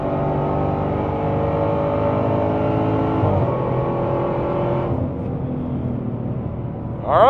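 A Dodge Demon 170 roars at sustained high revs on a private runway, loud and close. Near the end its pitch eases off, then a short burst sounds, with no talk.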